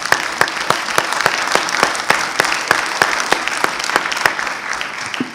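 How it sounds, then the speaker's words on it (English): Conference audience at a federal marketplace industry day applauds panelists, a loud, sustained round of clapping with many hands and distinct sharp claps standing out, steady from start to finish. "if you wouldn't mind joining me in a round of applause for our panelists today"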